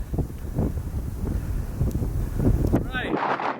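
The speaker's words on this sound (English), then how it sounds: "Holy, it's windy." Strong wind buffeting the microphone on a hilltop: a rough, gusting low rumble that carries on steadily, then cuts out abruptly near the end.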